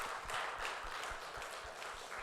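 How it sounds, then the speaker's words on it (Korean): Applause from a congregation at a Sunday church service, a soft, distant patter of many hands clapping steadily for a couple of seconds, with no talk over it. "우리 감사하다고 박수 부탁드립니다"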